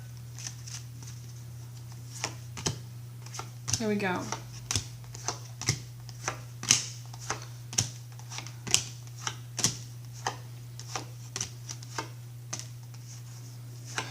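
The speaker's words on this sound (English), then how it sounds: "Just gonna shuffle a little bit more." Tarot cards being shuffled by hand, a steady run of crisp riffling taps and flicks close by, alongside a constant low hum, with a brief spoken remark partway through.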